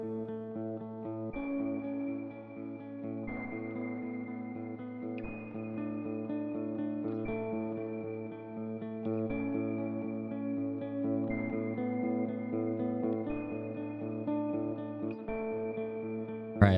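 Electric guitar drenched in reverb with a resonant filter effect plays sustained, repeating chord phrases with a steady, washy tone and long echoing tails throughout.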